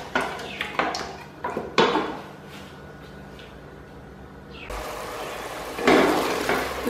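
Degi aloo gosht, meat and potatoes, being fried and stirred in a pot, with a series of metal spoon scrapes and clanks against the pot early on, then a quieter pause and a louder surge of frying near the end.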